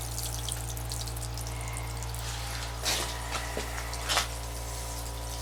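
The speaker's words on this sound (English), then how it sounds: "Pushing all the water out of the loops." Water gurgles and splashes through hydronic heating pipes in short bursts as it is pushed out of the loops, over a constant low mechanical hum, with a few brief surges near the end.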